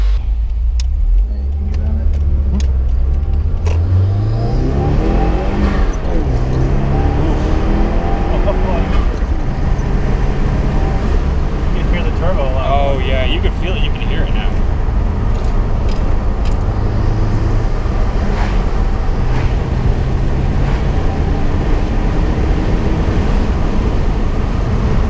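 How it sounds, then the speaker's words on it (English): A 2016 Subaru WRX fitted with a Mishimoto intake idles nearby, giving a steady low rumbling engine hum that runs unbroken for the whole stretch, with faint clicks and handling noises on top. "Okay, the car has started. Now we're just gonna let the car run."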